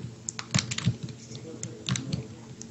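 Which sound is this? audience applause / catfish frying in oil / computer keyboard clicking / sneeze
computer keyboard clicking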